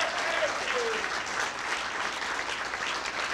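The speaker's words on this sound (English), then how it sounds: "Let's clap it up for these guys." Sustained audience applause fills a room at a high school football lifetime achievement award ceremony, steady and dense clapping at even loudness throughout.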